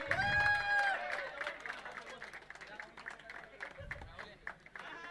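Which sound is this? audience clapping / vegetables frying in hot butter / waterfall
audience clapping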